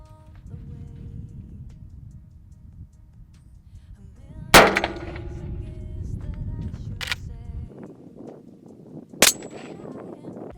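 A shotgun loaded with AAA buckshot and fitted with a full choke fires twice outdoors, two sharp, loud blasts several seconds apart over low background rumble.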